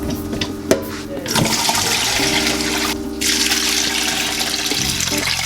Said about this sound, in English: Just going to wash our cabbage